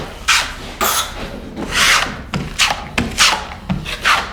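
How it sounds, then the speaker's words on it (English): A 12-inch drywall trowel scrapes joint compound across a drywall seam in repeated broad rasping strokes, about eight passes in steady rhythm, close and fairly loud with no talking. "I take the same 12-inch trowel and I remove most of the joint compound"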